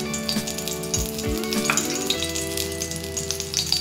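Half a spoon of oil heating in a pan on high flame, a continuous even sizzle with faint clicks and a couple of low knocks near the start.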